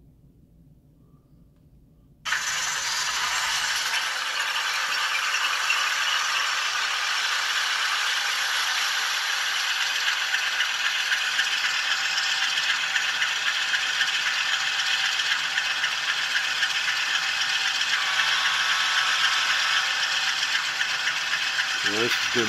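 N scale GE U25B model locomotives with ESU LokSound 5 Micro DCC decoders start up, a quiet hum jumping to a steady loud mechanical diesel rumble and rattle that continues, with a few faint sounds near the end.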